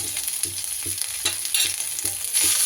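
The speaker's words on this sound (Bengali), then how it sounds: "আদাটা জাস্ট একটু তেলে এইভাবে নেড়ে নেব" Grated ginger stirred with panch phoron in hot oil for a Bengali vegetable chochchori, rhythmic spatula scrapes about twice a second over a bright continuous sizzle, close and with no voices.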